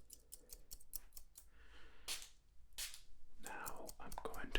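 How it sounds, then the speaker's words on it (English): Small fine-tuning scissors snipping hair in a quiet, close setting, a series of crisp, sharp snips in an irregular rhythm with soft breathy whispering between them. "Now I'm going to move on to the little scissors, or the fine-tuning scissors."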